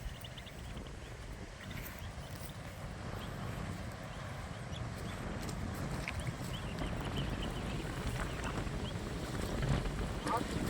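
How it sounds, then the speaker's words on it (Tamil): Strong wind blows steadily outdoors during village cooking beside a pond, a continuous low roar of gusts buffeting the microphone with no pauses. "காற்று வேறு அதிகமாக அடிக்குது"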